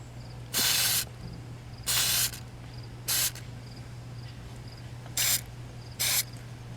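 Rust converter is sprayed inside a car door in five short, sharp aerosol bursts of bright hiss, each under a second, spaced irregularly over a low steady hum.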